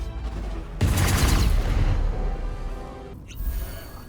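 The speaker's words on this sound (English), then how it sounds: "We need to do 4 magic missiles to get rid of all the unstoppable." A volley of Magic Missile spells in Baldur's Gate 3, a sudden burst of rapid crackling impacts with a deep boom that decays over a couple of seconds, followed by a brief whooshing flare.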